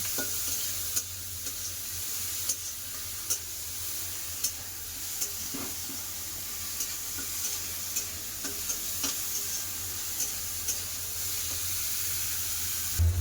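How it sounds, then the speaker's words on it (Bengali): Prawns frying with onion in a pan give a continuous bright sizzle, with light spatula scrapes and taps recurring every second or so, close and steady with no talking. "চিংড়ি মাছ ভালো করে পেঁয়াজের সাথে ভেজে নেব"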